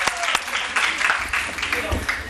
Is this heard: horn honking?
no